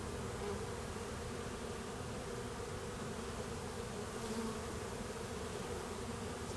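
Honey bees buzz in a dense, continuous drone during a January hive inspection, steady and close with no talking.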